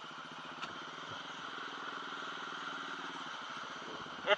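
A TRX700XX ATV engine holds high revs during a muddy, rainy ride, a steady buzzing drone at moderate distance. A brief knock lands near the end.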